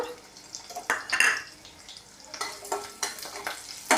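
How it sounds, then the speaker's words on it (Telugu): Urad dal, mustard seeds and cumin fry in hot oil for a South Indian tempering, making a crackling sizzle with sharp pops and occasional stirring clinks of a utensil against the pan, close and fairly loud. "నెక్స్ట్ తాలింపు దినుసులు మినపప్పు ఆవాలు జీలకర్ర"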